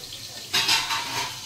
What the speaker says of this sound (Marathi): वरीचा तांदूळ नेहमी आहे ना भाजून घ्यायचा थोडा।